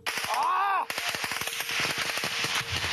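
Rapid gunfire in a video game crackles in sharp bursts from several directions, loud and close, with a rising whine early on and a dense stream of shots after.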